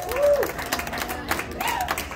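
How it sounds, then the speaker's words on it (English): A comedy club audience applauds and cheers in a steady wash of clapping, while a voice talks and calls out over the noise. "Another round of applause for you guys for coming out."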